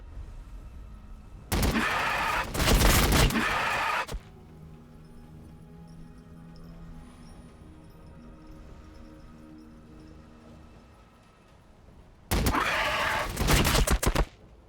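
Rapid bursts of gunfire in Warhammer 40,000: Battlesector as troops gun down Genestealers, two loud dense volleys separated by a quieter stretch of low battle ambience.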